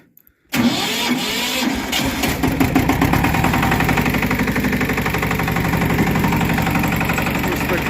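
A ZUBR 160 walk-behind tractor engine catches after a brief silence, starting without the decompressor, and settles into a steady, loud, rhythmic chugging idle that continues throughout.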